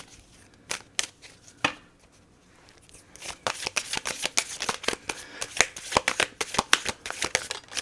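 Tarot cards being shuffled by hand: a few sparse riffles at first, then a dense run of rapid flicking slaps as the shuffle speeds up, close and fairly quiet, no talking.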